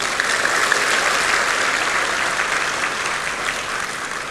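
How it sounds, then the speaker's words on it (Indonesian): A large audience at a vocational festival and campus opening event applauds a minister, producing dense, loud, continuous clapping that holds steady and fades only slightly toward the end. "tepuk tangan untuk Pak Menteri."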